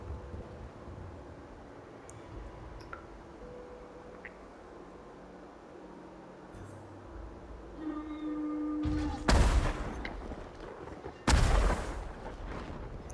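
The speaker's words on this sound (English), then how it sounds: "Just drop the bombs and kill them." Bombs detonate in the Ghost of Tsushima: Legends video game, two loud booming blasts late on, each with a rumbling tail, following quieter game ambience and scattered thuds.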